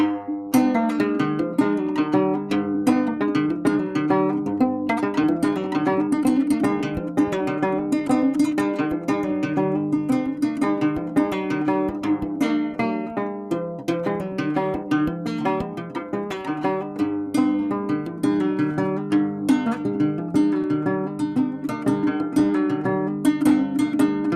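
A twangy plucked gourd banjo with a goat-skin head plays a lively, steady tune with continuous strumming and picked notes, close and even in volume throughout.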